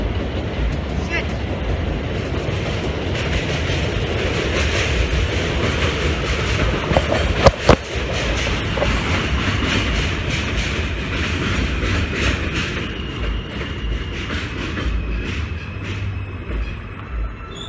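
Train pulling in with steady rumbling, clattering wagons and rising high-pitched wheel noise, loud and continuous throughout, with brief commands spoken to a dog over it.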